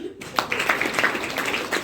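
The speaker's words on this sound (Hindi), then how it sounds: "इस पे बजाएं ताली।" An audience at a women's helpline gathering in Jhansi claps on request, a dense, sustained patter of many hands filling the short moment at moderate loudness.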